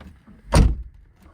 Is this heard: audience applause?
no